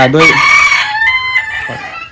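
A mini bantam rooster crows loudly up close while bantam hens cluck around it, the crow trailing off into softer clucking.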